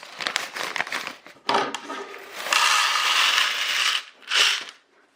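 Small plastic Lite Brite pegs are poured into a container in several rattling, clattering bursts, a long cascade, then a final short pour, close up.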